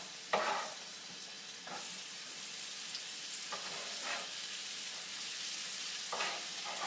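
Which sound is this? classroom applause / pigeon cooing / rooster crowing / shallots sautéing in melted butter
shallots sautéing in melted butter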